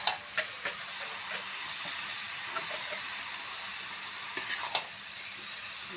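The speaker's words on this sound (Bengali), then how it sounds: "এবার এটাকে ঘাটতে হবে পুরো।" Tomatoes stirred into kalo kochu curry frying in a pan, village style: continuous close sizzling and hissing with occasional scraping stir knocks near the start and end, and no talk.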